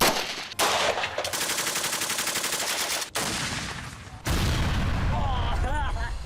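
Rapid bursts of gunfire crack and boom at an outdoor shooting range during shooting training, loud and dense in long continuous volleys with short pauses between them.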